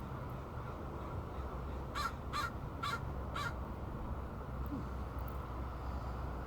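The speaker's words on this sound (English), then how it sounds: "Friend Crow's back." A crow caws four times in quick succession, fairly distinct against a steady outdoor background hiss, with a faint extra call later.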